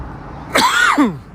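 A single harsh cough close by, a short burst with a rough throaty rasp, over quiet room tone.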